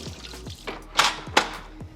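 Water tipped out of the drip tray of a Gaggia Cadorna Barista Plus superautomatic espresso machine, heard as a few short splashing pours and drips close by in a quiet kitchen, with two stronger splashes near the middle.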